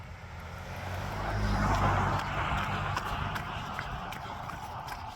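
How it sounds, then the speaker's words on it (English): Fast road traffic passes close by on a split road during a winter run, a broad continuous whoosh that swells to a peak midway and then eases into a steady roar. "I hate them because you're so close to the traffic and people drive so very fast."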